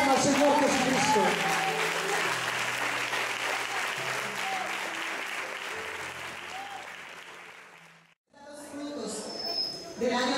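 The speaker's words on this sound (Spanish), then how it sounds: "Dale una ofrenda de palmas al Señor Jesucristo." A church congregation at a year-end service claps for Jesus Christ, dense sustained applause with some voices mixed in that fades and breaks off near the end, followed by a brief quieter stretch of sound.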